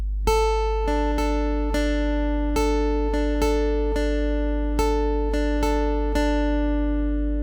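Clean plucked guitar notes ring out one at a time in a slow melodic line, each note sustaining and fading, played alone.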